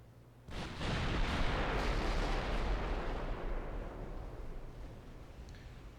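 A single heavy blast from a 6-inch naval gun in a warship video game, a sudden loud boom that rolls into a long rumbling decay fading over several seconds.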